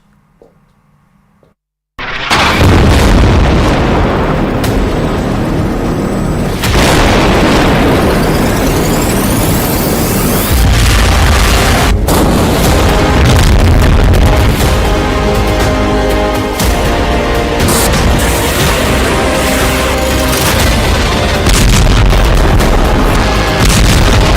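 Israeli bomb blasts in Gaza during wartime, heavy booming explosions with rumbling aftermath filling a loud continuous stretch after a brief quiet opening.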